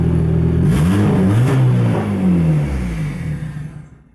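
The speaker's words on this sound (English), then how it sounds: "Like if I rev it and I don't hold it, there's a good chance it might die." A turbocharged SR20DE engine in a Nissan Sentra is blipped in a quick rev that swells and then falls away, the engine note sagging and fading as if about to stall.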